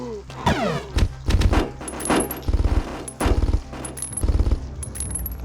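A newly found gun fires in the 1999 WWII shooter Mortyr 2093-1944, with repeated sharp bursts of automatic fire in quick clusters, punctuated by metallic clinks and ricochet-like pings.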